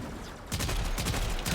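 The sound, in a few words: 2-round burst weapon fire in a video game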